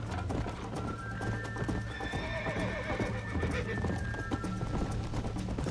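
A horse gallops in a Red Dead Redemption race, its rapid clip-clopping hooves continuous and close, with a whinny rising over the hoofbeats partway through.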